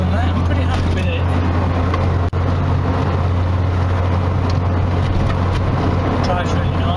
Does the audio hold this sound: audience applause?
no